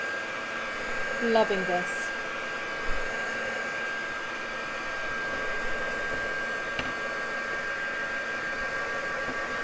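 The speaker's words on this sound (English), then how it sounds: "I want to dry it quite thoroughly" A heat tool blows steadily to dry paint on an artwork, a constant airy whine running throughout at moderate level, with a brief spoken comment near the start.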